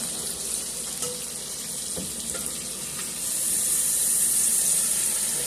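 Tap water runs steadily into a kitchen sink for hand washing while cooking beef liver with onions and gravy, a continuous close hiss that grows louder and fuller halfway through.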